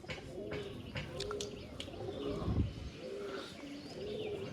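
Pigeons coo in repeated soft, throaty phrases, with a few light chirps and faint rustling mixed in. The calls are close and steady across the whole stretch, among birds kept for sale.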